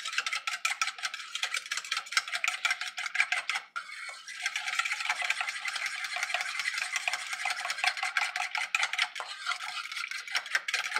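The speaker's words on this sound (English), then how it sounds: "And what you're going to do is mix that all together." Pumpkin bake ingredients are mixed briskly by hand in a bowl, a close, rapid run of wet scraping and clicking strokes with a brief pause near the four-second mark.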